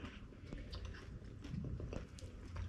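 A bite into a crunchy homemade vegetable spring roll, with close crisp crackling followed by moist chewing, heard near the mic with no talking.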